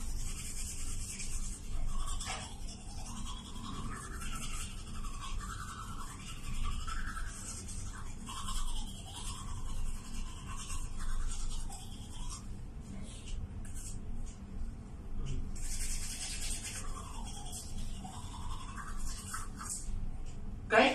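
Teeth being brushed with a toothbrush and a paste of toothpaste and baking soda, a steady close scrubbing and rubbing that runs throughout in repeated back-and-forth strokes, with brief pauses.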